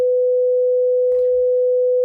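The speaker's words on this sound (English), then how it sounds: "We'll start with this 500 hertz sine wave" Steady 500 hertz sine wave test tone, a pure unwavering hum held loud and constant throughout, with a faint soft noise briefly beneath it.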